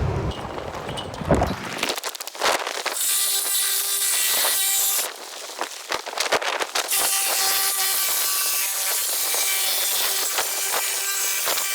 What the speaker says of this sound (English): we'll cut that with a sawzall